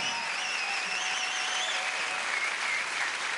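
Crowd applauding at a jazz and funk concert at Jazzwoche Burghausen, steady dense clapping heard from within the audience, with whistles and cheers rising over it throughout.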